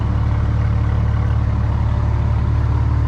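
A big-turbo BMW 335i running on E85 idles steadily after start-up, a close, loud, even low rumble with a slightly choppy, cam-like lope and no talking.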